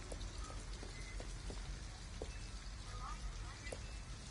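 Steady rain in the video game Detroit: Become Human, a dense hiss with scattered close droplet taps throughout and faint voices underneath.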